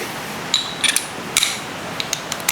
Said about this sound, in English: Use my 3/8 ratchet.